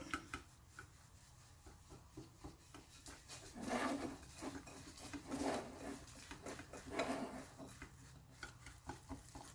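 Sweetener being whisked into a warm low-carb peanut butter fudge mixture in a bowl, with soft, irregular scraping and clinking strokes that come in quiet bursts, close by and with no talking.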